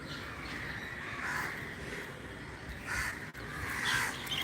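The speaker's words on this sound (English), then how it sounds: "See, there are many crows sitting here." Crows perched on a rooftop caw intermittently, a few scattered calls over a steady outdoor hiss.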